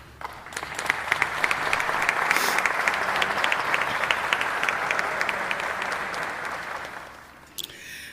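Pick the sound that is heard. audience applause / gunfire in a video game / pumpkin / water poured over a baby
audience applause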